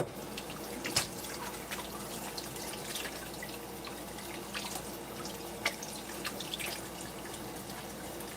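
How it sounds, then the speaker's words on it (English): Hands with dough stuck to them are washed under a running kitchen tap, a steady quiet stream of water with scattered drips and small splashes throughout, no voices. "Let me wash my hands."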